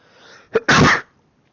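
A single loud sneeze close by, a short intake followed by a sharp explosive burst, then quiet.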